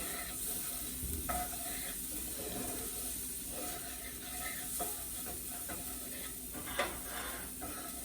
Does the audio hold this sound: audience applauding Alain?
no